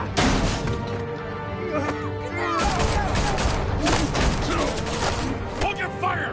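Gunfire crackles in rapid, overlapping bursts amid a chaotic scene in a Batman story, with metallic clatter and impacts. Voices are heard throughout the shooting.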